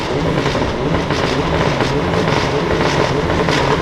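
A train passing close by, a loud, steady rumble of rail cars with faint rhythmic clatter running through the whole stretch.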